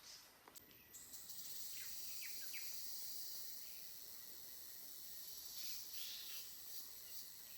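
Cicadas at a waterfall in Sri Phang Nga National Park hold a faint, steady high-pitched drone above a broad wash of rushing water. A few brief bird chirps break through early on.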